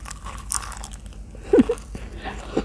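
Someone bites and chews a spicy mackerel salad, eaten by hand with crispy fried chili and plenty of vegetables, giving close, crunchy mouth sounds with a louder bite near the middle, and no speech.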